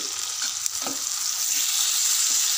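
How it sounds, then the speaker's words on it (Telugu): Tomato pieces cooking with frying brinjal in a pan, a steady bright sizzle with a couple of soft stirring knocks, close and continuous throughout. "కట్ చేసి పక్కన పెట్టుకున్న టమాటా ముక్కలు కూడా వేసుకోవాలి"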